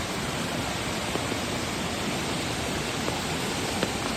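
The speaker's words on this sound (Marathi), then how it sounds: "पाणी बघ असं येईल व्हाळात" A stream swollen after rain rushes past, a loud, unbroken broadband roar of water close by that holds steady throughout, with no voices.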